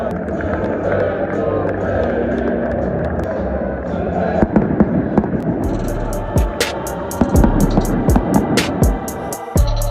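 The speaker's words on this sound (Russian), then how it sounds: "Пока здесь идут взрывы, команды выходят на поле." Fireworks bursting inside a stadium during a Moscow derby as the teams walk onto the pitch: a dense rumble of explosions and crowd noise, with sharper cracking pops growing louder and more frequent in the second half.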